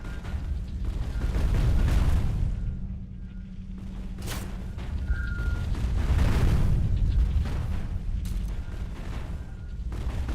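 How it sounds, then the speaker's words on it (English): Massive stone mechanisms in Tomb Raider: Underworld grind, thud and rattle in heavy rolling waves, with deep booming rumbles swelling and fading and no talk. "you've got the massive stone things which kind of clang. Or at least thud."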